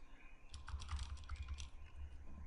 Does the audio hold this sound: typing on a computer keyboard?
yes